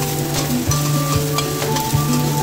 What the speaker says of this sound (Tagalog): let's start to fry the ginger and garlic